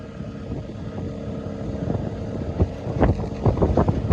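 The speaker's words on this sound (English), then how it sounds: "Here comes the wind." Squall wind gusting over a boat at anchor on the Chesapeake Bay, a steady roaring rush that strengthens toward the end, with buffeting and thumps against the hull and rigging close by.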